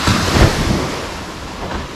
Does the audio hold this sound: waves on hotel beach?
yes